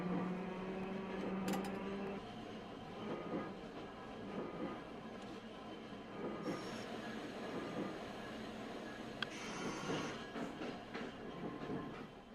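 A mechanical tram rolls along its route in the TramCity Hakodate video game, a steady rumble with rail clatter and brief higher squeals, carrying on continuously with no talk.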